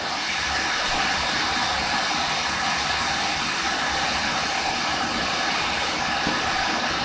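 Hot-air rework station blowing heat over a PS5 HDMI port during repair, a steady broadband hiss of airflow running continuously throughout at an even, moderate level with no voices.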